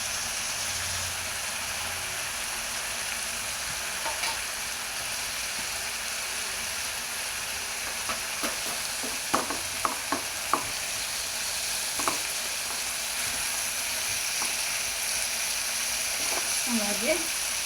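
Soft, steady sizzle of ginger frying in a pan for egg curry, broken by a few sharp clinks and taps of a spoon against the pan partway through.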